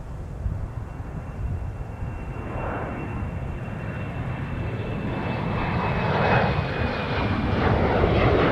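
Jet engines of a JetBlue airliner at MSP airport, a broad steady roar with a faint whine that swells slightly louder toward the end, no voices.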